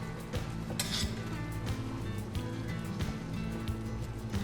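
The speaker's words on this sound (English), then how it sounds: "Let that shrimp cook down for about 5 minutes there. Give it a good stir here." Shrimp cooking in a pan are stirred, with soft scrapes and clinks of a utensil against the pan over a faint background sizzle, quiet and close, no talking.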